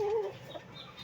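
One short cluck from a molting chicken at the start, then a quiet rustling background.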